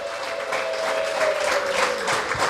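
An audience claps steadily and densely for the President at a community meeting in Rwamagana. The applause is loud and sustained across the whole moment, with no voices over it.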